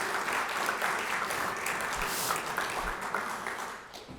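Guests at a patent dinner event applaud in a brief, steady burst of many hands clapping that fades slightly toward the end, with no talk over it.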